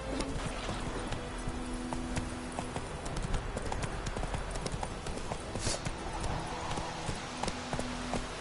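Roach, Geralt's horse in The Witcher 3, trotting with a brisk, regular clip-clop of hooves up close, continuous over light game ambience with no talking.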